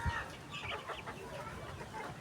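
A native (nadan) rooster, one kept for sale on a poultry farm in Kozhikode, gives a few soft, close clucks over low farmyard background noise, with no talking.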